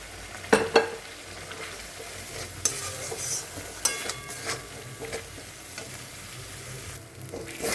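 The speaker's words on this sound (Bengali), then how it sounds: "তো মশলাটা এখন ভালো করে ভাজা হোক।" Spice paste with chili paste frying in oil for a Dhai fish curry, giving a continuous gentle sizzle broken by sharp scraping clinks of stirring, up close in a quiet kitchen without talk.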